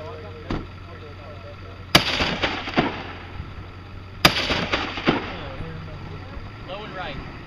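Rifle shots ring out at a practical rifle match outdoors, two sharp loud reports each followed by a cluster of quicker shots and echoes, with steady background noise and people talking around them.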